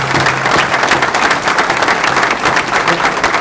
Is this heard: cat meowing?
no